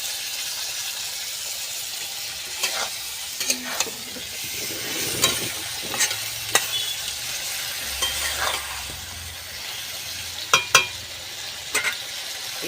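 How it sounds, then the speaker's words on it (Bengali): Water goes into fried spice masala in a pan for a light tilapia curry with vegetables, giving a steady sizzle and bubbling with occasional stirring clinks of a utensil, fairly close and with no talking. "এবারে আমি পরিমাণ মতো জল দিয়ে দিলাম"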